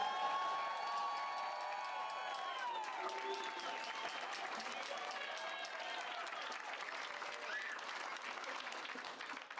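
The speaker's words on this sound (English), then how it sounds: "I would like you guys to also give them a big clap" Crowd applause and cheering at a soccer team's trophy homecoming celebration, steady and dense for the whole stretch, with whistles and shouts rising over the clapping.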